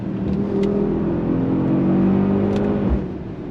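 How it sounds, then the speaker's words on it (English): A 2024 Mercedes-AMG GLS 63 SUV engine revs up under acceleration with a rising hum, droning loudly throughout before easing off near the end. "That freaking sound of that engine."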